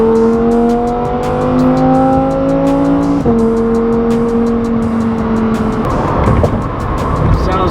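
A Lamborghini Huracán STO with an Akrapovic exhaust drives past loudly, its engine holding a strong high-pitched tone, with an abrupt gear shift dropping the pitch about midway and a rougher, lower rumble near the end.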